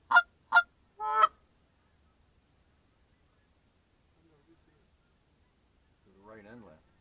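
Canada geese on a foggy waterfowl hunt honk in short calls from different directions: three loud honks close together near the start, then a softer, wavering burst of goose calls after a long quiet gap.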